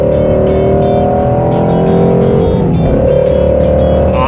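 A Shelby GT350 pulls hard in fourth gear, its engine note rising steadily and loudly from inside the car, dipping briefly as it shifts before climbing again.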